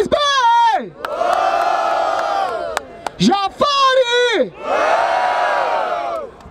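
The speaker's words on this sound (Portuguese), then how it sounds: "Barulho para as rimas do Jafari" A loud crowd cheers and whoops at a Brazilian freestyle rap battle in Barueri, São Paulo, with sustained roaring bursts broken by rising shouted calls from an MC chanting over the noise.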